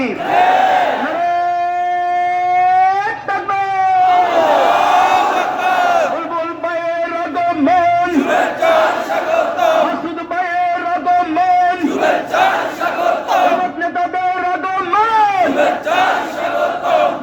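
Large crowd at a Jamaat-e-Islami rally in Lakshmipur, Bangladesh, chanting slogans loudly in unison, with a leader's amplified voice calling out lines and the mass of voices roaring back in steady waves.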